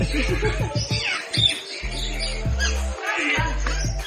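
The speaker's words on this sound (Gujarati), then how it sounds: "પહાડી પોપટ" Hill parrots squawking and chirping in short bursts at a park in Rajkot, mixed with an intermittent low droning hum.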